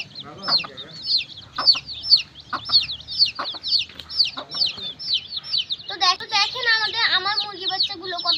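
Young chicks feeding and clucking together at close range, with a steady stream of soft, rapid chirps and clucks and a denser, busier burst of calls toward the end.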